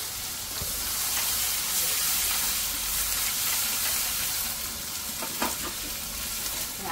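Curry leaves, onion and tomato frying in a pan for usal, a loud, continuous close sizzle and hiss with a few stirring scrapes near the end, no talk.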